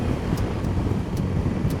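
Steady wind blustering against the microphone on a motorcycle ride through Rogaland, Norway, a constant low roar with a few faint higher gusts, no voices.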